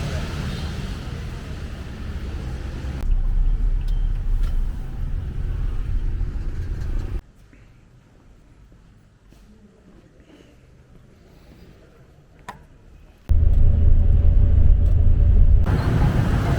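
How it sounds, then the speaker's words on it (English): Busy Saigon street traffic of cars and motorbikes, a loud, steady rumble of engines that drops away to near quiet for several seconds before surging back in full. "Have a look at the traffic here. Have a look at the cars, the bikes rather."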